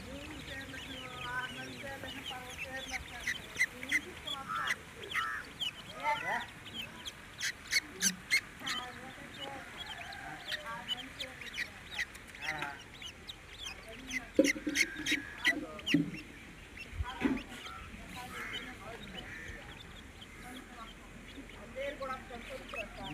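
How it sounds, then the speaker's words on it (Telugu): High, thin chirping of many small quail chicks close by, repeated in bursts, with low voices and farmyard bird calls mixed in. "కోడి పిల్లలు కాదు కోంచి పిల్లలు"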